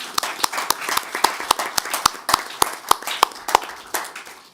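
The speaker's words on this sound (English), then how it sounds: "If we could have a round of applause for them" An audience claps at the 2021 Warsaw Strategic Forum, where sharp individual claps repeat steadily in a sparse, fairly close round of applause that holds at an even level throughout.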